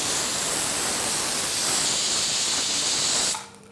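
Steam hisses loudly and steadily from a pressure cooker of rice and dal for over three seconds, then cuts off abruptly and leaves a quiet room.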